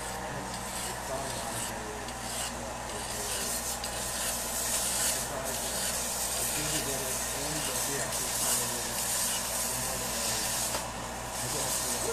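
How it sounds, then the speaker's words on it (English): A sharp metal edge on a tool is sanded down in a repair workshop, giving a steady, close, abrasive hiss and rub that runs unbroken for several seconds. "It's a little bit sharp right here, so I'm gonna sand that down."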